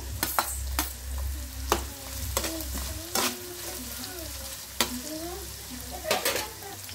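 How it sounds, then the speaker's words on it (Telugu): Onions fry in oil in a pan for egg fried rice, a steady sizzle broken by repeated sharp scrapes and knocks of a stirring utensil against the pan, close and fairly loud. "బాగా అవి రోస్ట్ అయ్యేంత వరకు మనమైతే ఆయిల్లో వేయించుకుందామండి బాగా"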